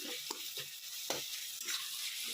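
Turmeric frying in a hot tadka for a hotel-style curry, a steady sizzle broken by several soft stirring scrapes at an even rhythm, close and fairly quiet, with no voices.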